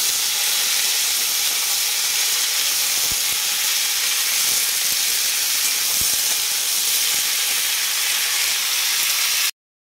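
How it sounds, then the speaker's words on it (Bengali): Vegetable curry with bori cooks in a pan, giving a loud, steady hiss and sizzle that runs unbroken, with a few faint clicks underneath, before stopping abruptly at the end. "অনেক দিন পর একটু বড়ি দিয়ে সব রকম সবজি টবজি দিয়ে ঝোল করছি।"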